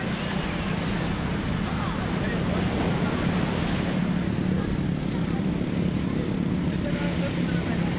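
Rough sea waves roll onto a Zambales beach as a continuous loud wash of surf, blended with blustery wind buffeting the microphone, and people talking underneath.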